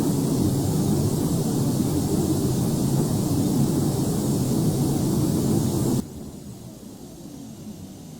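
A Delta heavy airliner takes off in the FSX Flight Simulator game, a loud, steady engine roar that drops abruptly to a quieter hum near the end.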